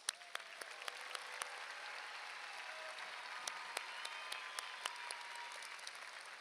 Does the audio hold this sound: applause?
yes